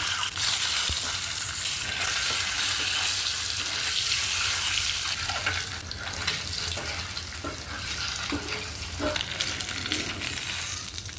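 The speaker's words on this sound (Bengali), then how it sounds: "ডিমটা ভাজি করব" Eggs fry loudly in a pan, a dense, constant close sizzle with hissing and occasional light scrapes, no voices over it.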